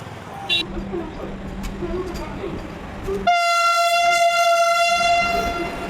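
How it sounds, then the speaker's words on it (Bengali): The 13152 Kolkata Express pulls into platform 1 at Ayodhya Dham station. Platform talk and crowd noise come first, then a loud, sustained train horn sounds close by. "অবশেষে অযোধ্যা ধাম রেলওয়ে স্টেশনে 1 নম্বর প্ল্যাটফর্মে ঢুকতে চলেছে।"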